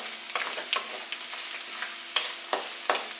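Dried red chillies, cut into pieces, frying with coconut in a pan for chicken thattipparichathu, a steady soft sizzle with occasional louder crackles and stirring scrapes.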